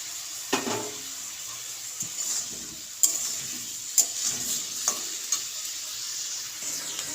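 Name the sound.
onion and green chillies frying and being stirred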